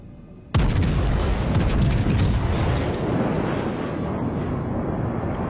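A heavy artillery blast booms out in a video game naval battle, with a sudden loud onset followed by several seconds of dense rumbling and crackling that slowly fades while staying strong throughout.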